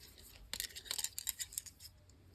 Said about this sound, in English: Okay, I need to use different scissors for this.